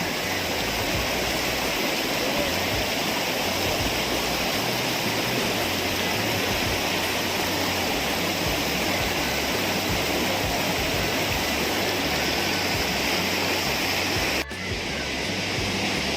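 The Sautada waterfall roars in heavy monsoon rain as a loud, steady wash of falling water, continuous and close, with no other sound rising above it.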